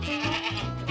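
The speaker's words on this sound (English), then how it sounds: "Sheep!" Sheep bleating in a short, close, wavering call lasting under a second.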